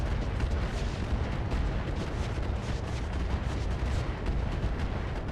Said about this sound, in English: That's a lot of missiles